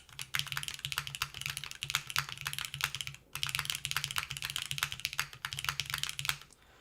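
A mechanical keyboard with Cherry blue switches is typed on in fast, dense bursts of close clicky keystrokes, with a brief pause midway and no voices.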